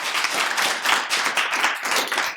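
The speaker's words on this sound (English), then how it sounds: "you guys better clap for them, yeah, as they get up." A room of people clapping in continuous applause, a dense and fairly loud patter with no talking over it.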